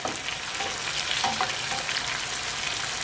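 Dory fish fillet sizzling steadily in a frying pan over medium-low heat, a dense continuous crackle and hiss with no voices.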